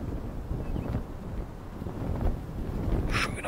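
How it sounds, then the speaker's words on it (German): Wind rushes and flutters through glider sails while gliding in the Enshrouded video game: a steady, full whooshing roar with no break, rising slightly near the end. "Schön auch das Geräusch beim Gleiten, wie der Wind in den Segeln flattert hier."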